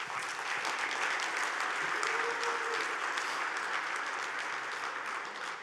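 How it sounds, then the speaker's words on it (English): Steady applause from an audience at a tech conference talk, a dense wash of clapping that holds evenly throughout, moderately distant, with no voices on top. "And that applause is for Giuliano"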